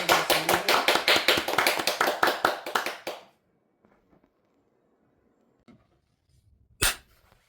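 Studio audience applause closing a Korean broadcast, a few seconds of quick, crisp, rhythmic clapping that cuts off abruptly, followed by near silence and a single sharp clap-like hit.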